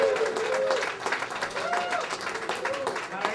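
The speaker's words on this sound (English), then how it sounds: "please give a nice round of applause to Jim James" An art opening crowd gives Jim James a warm round of applause, moderately loud clapping with cheering voices rising over it for a few seconds.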